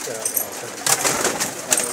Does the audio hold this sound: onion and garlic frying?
no